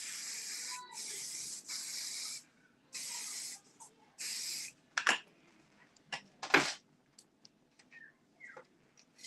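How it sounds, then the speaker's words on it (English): Sebastian hairspray sprayed onto a wig while it is being styled. Several close, hissing spray bursts of a second or so each come one after another, followed by quieter handling sounds and faint taps. "let's do a little Sebastian spray"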